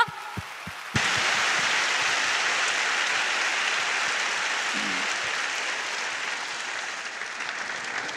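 A church congregation breaks into warm applause after a Bible recitation contest at a thanksgiving service. A few sharp, scattered claps come first, then a sudden, loud, sustained roar of clapping that slowly tapers.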